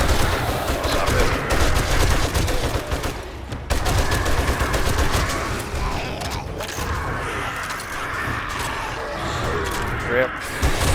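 Gunfire in the survival game 7 Days To Die, with dense, rapid volleys of shots and mechanical clatter, loud and nearly continuous, broken by a brief gap, under a talking player's voice.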